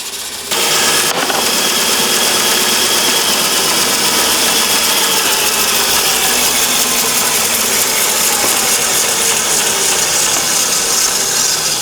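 A homemade wooden bandsaw cuts a wave shape through a wood block, starting abruptly and holding a loud, steady rasping whine with a rough buzzing hiss and no pauses.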